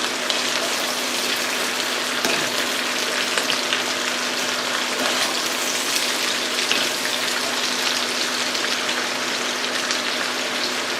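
Onions cook in a pan with a steady, close sizzle and fine crackle that holds evenly throughout over a faint constant hum, with no voices.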